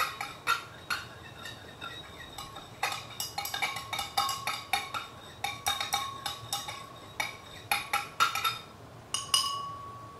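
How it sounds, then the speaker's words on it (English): A face toner mixture is stirred in a bowl, producing quick rhythmic clinks and scrapes of a utensil against the sides in bursts, fairly faint and close, with no talk. "Continue to stir well."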